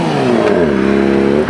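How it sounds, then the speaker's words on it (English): A car engine revs and accelerates close by at a car meet, a steady loud drone with rising and falling pitch, no voices. "the cars are just rolling in non-stop"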